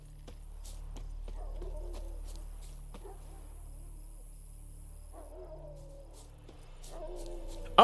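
Wild dogs and wolves in The Witcher 3, faint whimpers and short yips rising over a quiet forest ambience with insect buzz and occasional bird chirps, ending in a louder closer burst.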